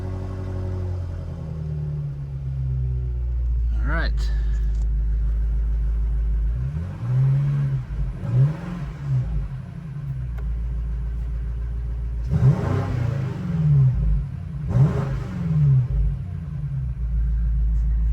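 A BMW F90 M5 engine with aftermarket turbo inlet pipes idles with a low rumble, then revs up in three bursts, each climbing and falling back; a voice briefly speaks near the start.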